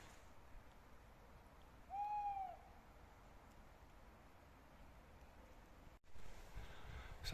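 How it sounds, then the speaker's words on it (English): An owl calling from tree branches at dusk in a quiet valley, a single clear drawn-out hoot rising then falling, fairly near, over faint ambient hush, followed later by rustling. "So I can just hear an owl"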